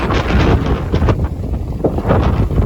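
Strong wind in France, at nearly night, buffets the microphone in uneven, rumbling gusts, loud and close, with no voices.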